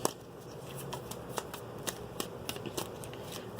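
Tarot cards shuffled and pulled from the deck, a steady run of crisp papery riffles and sharp flicks at close range, with a low hum underneath and no talking.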